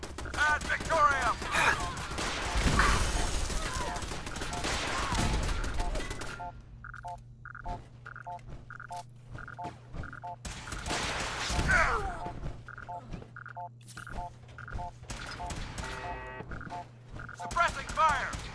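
Automatic gunfire rattles in Fallout 4 as loud bursts, then repeated short rapid volleys at a steady rhythm, with voices shouting over parts of it.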